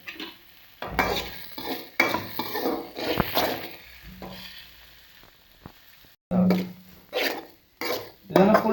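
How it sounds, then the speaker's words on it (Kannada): Green chilies frying in a pan, with bursts of sizzling and spoon-against-pan clatter in uneven stretches between short pauses, close and moderately loud. "ಈಗ 2 ಹಸಿಮೆಣಸನ್ನು ಹಾಕುವ"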